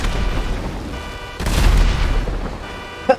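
Gunfire and heavy booms ring out in GTA 5 during a military assault with army vehicles: a loud rumbling burst swells midway, then a single sharp shot cracks near the end, with no voices.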